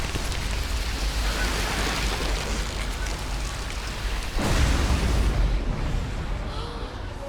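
A fireworks box set alight by the Incendio spell in Harry Potter and the Order of the Phoenix game crackles and hisses with a dense rain-like roar, swelling into a louder burst partway through before thinning out.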